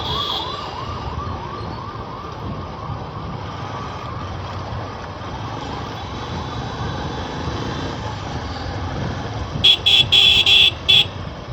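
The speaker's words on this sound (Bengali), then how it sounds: "অ্যাম্বুলেন্সও ফেঁসে আছে জামেতে" An ambulance siren wails in a traffic jam on a Kolkata road near Santragachi roadworks, rising and falling over rumbling engines, with loud bursts of car horn honking near the end.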